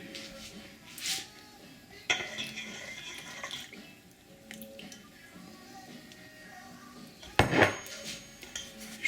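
Eggless prune cake batter being mixed with milk in a bowl, with intermittent spoon clinks and wet scraping, and a sharp, louder clatter near the end.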